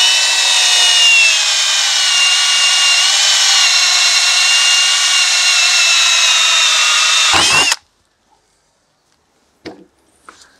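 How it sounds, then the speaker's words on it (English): Power drill whines loudly and steadily as it bores holes in a barn door, then stops abruptly, leaving near silence with a couple of faint knocks. "now let's quickly drill these out again and get the job finished"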